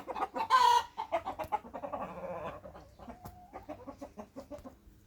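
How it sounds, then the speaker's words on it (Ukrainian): A hen cackles loudly after laying an egg in a rapid, excited run of clucks, then keeps up a steadier string of calls nearby. "якась курка знеслася."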